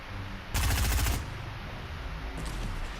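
Gunfire in a video game, a loud close burst of rapid automatic shots lasting about half a second, followed by quieter game sounds and a faint extra shot, no voices.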